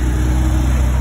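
A Porsche 992 GT3 sports car engine on a Monaco street, a steady loud low rumble held for about a second with no talk over it.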